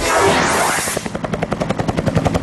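A police helicopter landing during a Metro Manila police drill: a broad roar that gives way to a steady, rapid rotor chop, loud and close, with no talk.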